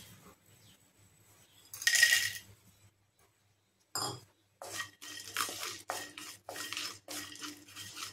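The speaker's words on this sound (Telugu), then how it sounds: "కళాయి వేడైన తర్వాత ఎండు రొయ్యలు ఫ్రై చేసుకుందాం" Dried prawns tossed and fried in a hot kadai on a stove: a loud clatter of metal around the two-second mark, a pause, then repeated bursts of crackling sizzle and stirring scrapes, close up with no talking.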